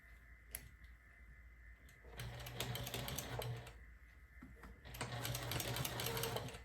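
A sewing machine back-stitches quilt binding in short bursts of fast mechanical whirring, with quiet pauses between runs.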